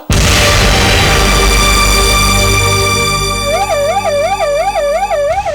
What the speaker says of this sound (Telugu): అంబులెన్స్ వచ్చింది